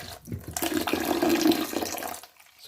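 Water is squeezed by hand out of freshly washed coriander leaves, a close wet splashing and trickling that swells for about two seconds, then drips away into near silence.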